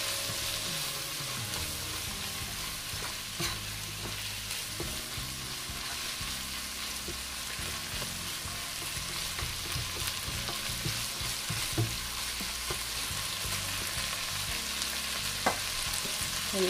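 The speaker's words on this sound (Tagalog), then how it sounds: "Ah, haluin natin." Chicken gizzard, heart and vegetables stir-frying in a pan, with a steady loud sizzle and repeated scraping stirs of the utensil throughout, no speech.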